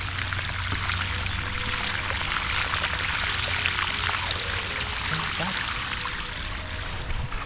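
A pond filter pump sends out cloudy wastewater in a steady, loud rushing pour that stays fairly constant throughout with no talking.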